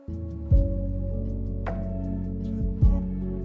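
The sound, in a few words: choppy cassette tape string sample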